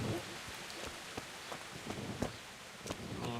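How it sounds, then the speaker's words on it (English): Steady rain falls in the medieval world of the Kingdom Come: Deliverance video game, a continuous soft hiss with scattered sharper drop taps, moderately quiet and alone without talk. "Started raining again."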